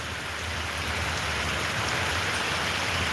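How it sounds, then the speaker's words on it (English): Heavy rain pours steadily in Cincinnati, a dense, constant hiss of drops on surfaces heard from a porch, loud and unbroken with no voices. "right now it's raining big time in the city of Cincinnati."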